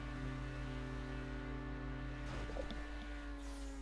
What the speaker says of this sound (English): Numbed engine note until we get to the brake section